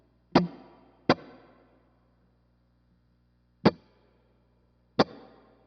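An electric guitar runs through a Strymon Big Sky reverb pedal on a small-space setting: four separate, loud, sharply attacked chord strums, two close together and two later, each fading out in a short, tight reverb tail before silence.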